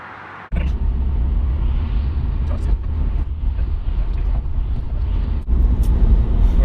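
A car towing a trailer carrying a 1984 Opel Kadett cruises along the Autobahn. The cabin is filled with a loud, steady low road rumble that starts abruptly after a brief quiet moment and carries on unbroken.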